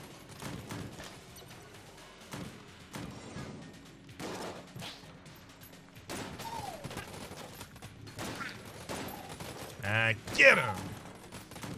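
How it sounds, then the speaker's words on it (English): Bursts of video-game gunfire from Enter the Gungeon, rapid shots clustering into a loud volley near the end, heard under ongoing commentary talk. "We're probably heavily wasting ammunition at the moment by not just using single shots for single targets"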